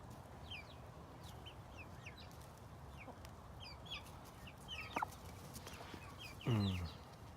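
Four-week-old feathered-out young chickens free ranging make soft, steady clucks and high chirps close by, with one louder, fuller call near the end; no one speaks.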